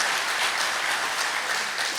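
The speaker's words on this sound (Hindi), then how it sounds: "चलो जोर से ताली बजाइए।" An audience at a talk on effective speaking claps steadily, a dense, even wash of applause holding for two seconds with no voices.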